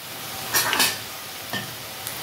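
Potato and egg snacks frying in a pan, a continuous gentle sizzle broken by a few short crackling bursts and light utensil scrapes, close and fairly quiet.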